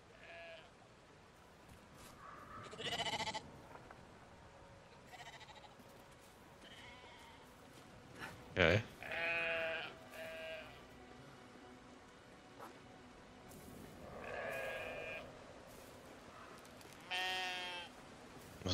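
Sheep bleat several times in scattered bursts in the video game Brothers: A Tale of Two Sons, wavering and fairly clear, with a sharp click in the middle and a steady low background hum.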